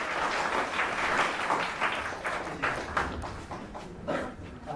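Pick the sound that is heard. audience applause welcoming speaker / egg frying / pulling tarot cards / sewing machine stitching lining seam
audience applause welcoming speaker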